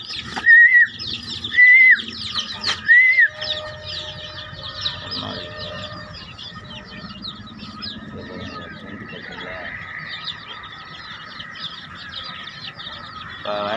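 Chickens and chicks on a livestock farm, a few loud clucks and calls up front, then a steady bed of chirping birds and fowl noise at moderate distance.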